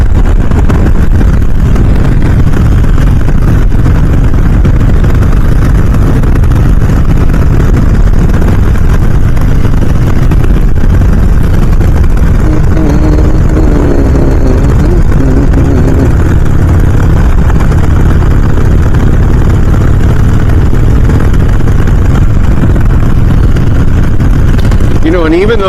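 A motorcycle engine held in fourth gear at roughly 3,000 RPM, around 45 to 50 mph on a twisty road, giving a steady low drone with wind rush throughout and no pauses.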